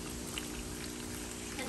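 Water siphoned out of an aquarium through a homemade cleaner makes a steady, soft pouring trickle, continuous and close for the whole moment.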